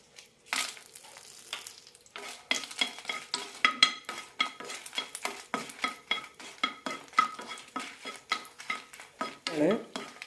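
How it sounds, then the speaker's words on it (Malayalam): Red chillies fry in a teaspoon of oil in a pan for an onion tamarind chutney, with a soft sizzle beneath repeated scraping and clinking of a spoon stirring against the metal. "പാനിലേക്ക് ഒരു ടീസ്പൂൺ എണ്ണ വെച്ചിട്ടുണ്ട് ആദ്യം മുളക് വറുത്തെടുക്കാം"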